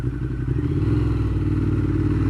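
A 2015 Ducati Monster 1200 fitted with a Termignoni exhaust runs with a deep, steady engine rumble and a clattery, pulsing exhaust note, loud and close, holding an even throttle throughout with no voices.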